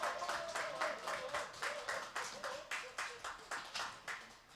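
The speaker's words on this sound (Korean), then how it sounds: "박수 많이 쳐주세요, 여러분" An audience claps in a steady, rhythmic beat at an indie live concert. The claps come in even bursts of moderate loudness, and no one speaks over them.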